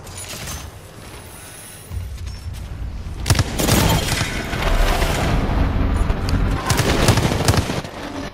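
Wingman revolver in Apex Legends: several sharp, loud gunshots crack out in quick succession over a low rumble of game sound, with booming impacts and a busy battle background.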